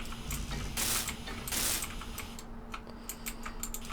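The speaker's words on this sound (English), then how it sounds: "so I'm going to hand weld them." Steel plates hand welded in the video game Space Engineers give two bursts of harsh mechanical whirring and grinding, then lighter clicking and ratcheting, with no voice over it.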